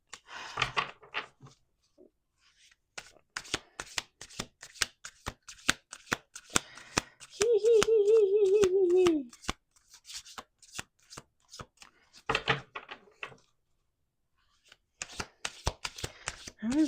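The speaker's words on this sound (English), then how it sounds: "All right, let's do 2 more shuffles." Tarot cards shuffled by hand in repeated crisp riffling bursts and taps, close and clear, with a brief tonal hum in the middle and pauses between shuffles.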